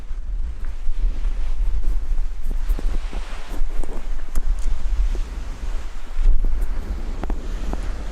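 Strong wind sweeps through a seaside campsite in Greece, a constant loud rumbling buffet against the microphone with gusts and faint flapping rustles, no voices.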